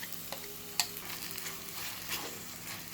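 Ground coconut paste is stirred into onion and bitter gourd frying in a pan for theeyal curry, with a faint steady sizzle and a few scraping clicks of the spoon, quiet and close, no voices.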